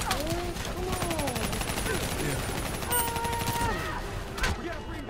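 Gunfire in Call of Duty Black Ops III rattles in rapid bursts and volleys, mixed with whistling and sweeping game effects, while voices shout over the battle.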